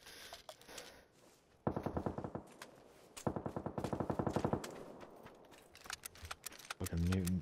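Rapid automatic gunfire in a shooter video game rattles in two long bursts, with scattered single shots and other game noises around them, and a brief voice at the end.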